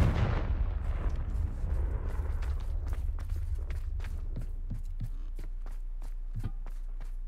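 A Confringo blasting spell cast in Hogwarts Legacy erupts in a loud, booming burst, then leaves a low rumble over which a series of sharp, crackling impacts repeats at a steady pace.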